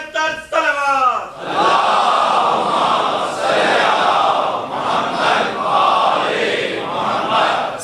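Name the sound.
crowd chanting salawat in unison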